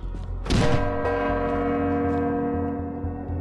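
A single deep bell strike marks the end of a round in the VR game Drop Dead the Cabin, a sharp onset followed by a long, steady ringing hum that sustains under a low rumble.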